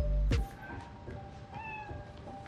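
A soft cat meow with a slightly synthetic tone from the video game Spider-Man: Miles Morales follows a brief thump, sounding close and quiet against a faint background hum.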